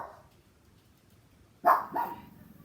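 A dog barks at people walking down the street: two sharp, loud barks close together near the end, after a quiet stretch with faint background noise.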